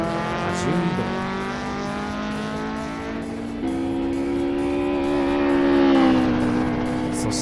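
A Toyota AE86 engine climbs in pitch as it accelerates on a mountain pass, with a brief dip around a shift before rising again, loud and close with a faint tire squeal, no talking.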